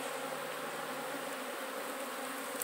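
Honey bees buzz continuously around open hive frames, a dense, even, close-up hum that holds steady throughout with no voices.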